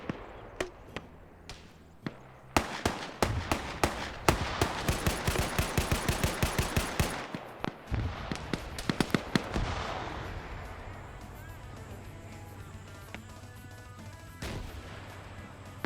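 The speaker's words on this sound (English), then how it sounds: "returning fire." Gunfire in a strategy video game battle: bursts of rapid shots and heavy blasts, loud and dense at first, then thinning to scattered reports over a lingering rumble.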